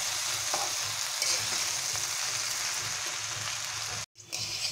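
Rice for Basanti pulao fries in oil with an even, close sizzle and light stirring. The sound cuts out briefly near the end, then resumes.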